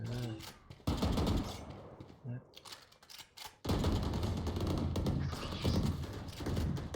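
Rapid bursts of gunfire from the video game Valorant crackle in loud, repeated volleys with brief gaps, under continuous excited talking.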